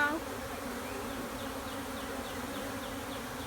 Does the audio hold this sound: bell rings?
no